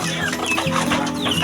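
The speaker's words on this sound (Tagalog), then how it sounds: "Ito mga kamanok ko" Backyard chickens clucking at a Filipino poultry yard around feeding time, several overlapping hen calls close by in a steady busy chatter with no talk.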